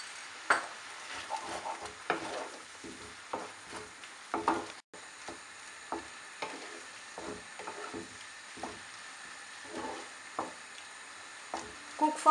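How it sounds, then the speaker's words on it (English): Mushrooms with soaked fenugreek leaves (kasuri methi) being stirred in a pan, soft irregular scraping and clinks of a utensil over a faint sizzle, fairly quiet. "mix 1 tablespoon of soaked fenugreek leaves or kasuri methi"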